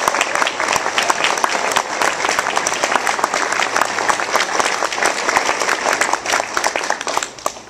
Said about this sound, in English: join me in giving all the candidates that will soon come to this platform a round of applause, please